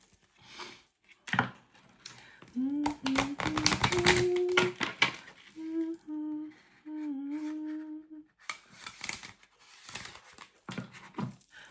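Quick bursts of papery riffling as tarot cards are shuffled, with a whining tone rising and falling over part of it, then a pause and more shuffling.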